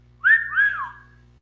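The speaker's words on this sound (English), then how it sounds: "so I had to wolf whistle at her right quick." A man's two-note wolf whistle indoors, a sharp rising sweep followed by a longer falling glide, loud and close, standing alone over a faint steady low hum with no talk.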